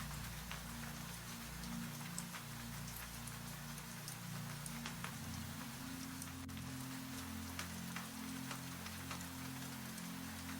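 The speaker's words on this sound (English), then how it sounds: "Rain continues across the glass." Steady rain streams against window glass at night, a continuous, even patter that runs the whole time beneath a low, constant droning tone.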